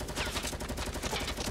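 Dense, continuous gunfire from a Fortnite match in Tilted Towers, rapid overlapping shots and bursts filling the whole moment at moderate loudness with no talk over it.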